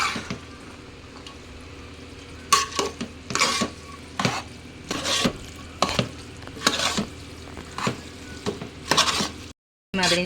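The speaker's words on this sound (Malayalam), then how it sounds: "പിന്നെ ഇതേമാതിരി ഇളക്കിയിട്ട് കൊടുക്കണം" Chicken spaghetti noodles being stirred in a frying pan, a steady sizzle broken by repeated scraping and clattering spoon strokes against the pan, close and clear, with a brief cut to silence near the end.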